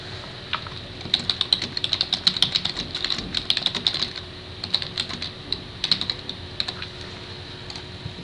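Fingers tap out text on a computer keyboard in quick, uneven bursts of crisp close clicks, pausing briefly between runs of keystrokes.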